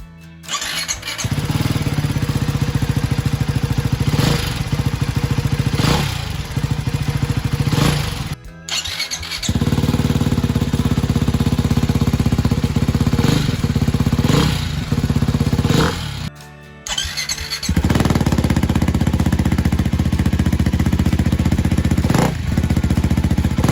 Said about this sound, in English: This is how Ducati Hypermotard 698 Mono sounds.